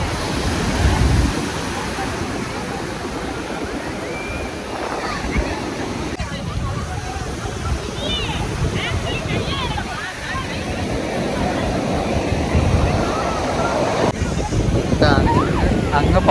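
Sea waves rolling on the Bay of Bengal shore, a steady rushing surf heavily buffeted by wind against the microphone, with voices talking faintly at times.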